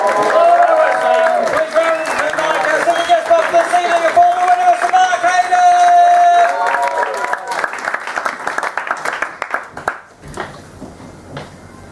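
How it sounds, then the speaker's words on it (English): A comedy club audience applauds and cheers after the host prompts them, sustained clapping and whoops for several seconds, with the host's voice ringing over the crowd before it fades out. "give it a little bit of clapping"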